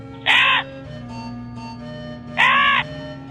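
A crow in a children's story cartoon caws twice, loud and close, with the harsh calls about two seconds apart over a soft musical backing.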